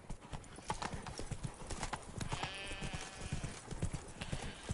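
Roach, a horse in The Witcher 3 video game, gallops with steady rapid hoofbeats close up, a fast clip-clop rhythm under a busy game soundscape.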